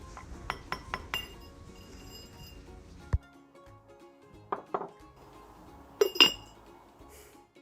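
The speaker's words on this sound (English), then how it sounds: "I just gently tapped that away and then it sort of changed sound and it literally just popped off." Someone gently taps on a glass jar's tight lid, a run of close, quiet clinks and knocks, a few scattered taps, then a sharper louder pop-like clink as the lid loosens and comes off.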